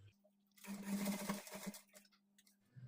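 A sewing machine runs a rough stitch along a blouse, a steady motor hum under a rapid mechanical chatter that swells for about two seconds and then settles back to the idling drone.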